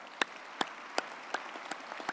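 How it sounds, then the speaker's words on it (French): Congress audience clapping after a speech, sharp synchronized claps landing in a slow, even beat, about six strong hits over a softer bed of scattered applause. "Je vous applaudis."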